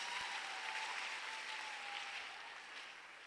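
Congregation applauding in church, a steady dense wash of clapping holding throughout and easing slightly toward the end, with a faint sustained tone beneath.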